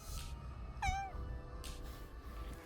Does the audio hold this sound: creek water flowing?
no